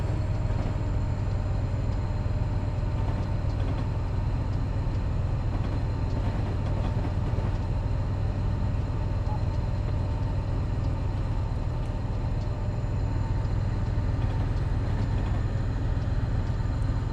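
A long freight train led by an EMD SD75 locomotive in Train Simulator 2017 rumbles steadily past a coal train, a continuous loud low drone with faint rail clatter and no talk.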